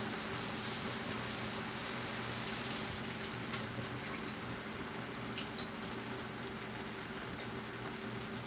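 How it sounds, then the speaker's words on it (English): Spinach being rinsed under a running kitchen tap: a steady, close rush of water, heavier for the first three seconds and then a softer, even stream, with no talking. "I'm going to rinse the spinach off."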